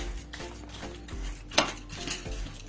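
A utensil mashes food in a bowl with sugar and sunflower oil, giving soft irregular scraping and clinking strokes, one sharper clink near the middle, fairly quiet with no talk.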